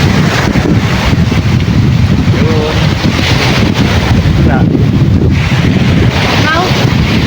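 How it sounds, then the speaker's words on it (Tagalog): Strong wind buffets the microphone with a constant roaring rumble, and waves or water churn underneath, loud throughout with faint voices mixed in. "pagkalakas po kasi ng hangin kaya ano yung alon"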